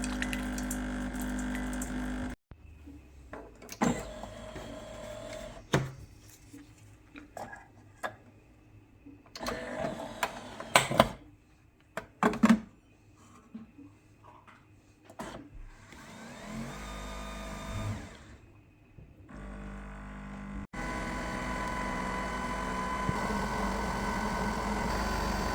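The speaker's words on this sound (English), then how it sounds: "We'll run through a quick cleaning cycle" A Nespresso Vertuo Plus coffee machine, a model prone to leaking, runs a cleaning cycle with pump whirring, gurgling and buzzing bursts separated by short pauses, ending in a steady mechanical hum.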